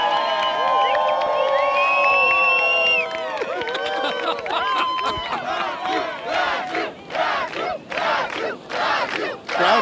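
A large beach crowd at a surf contest final in Rio, Brazil, chants loudly for a popular surfer, first with sustained shouting and then a rhythmic, pulsing chant in repeated bursts.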